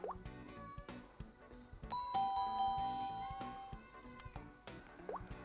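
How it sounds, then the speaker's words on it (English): A series of electronic chimes from a Dome Z-Wave smart home hub rings out, bright ding-dong tones sounding one after another with clear ringing tails, fairly close and alone. "you can also use these chimes. Let me just try one."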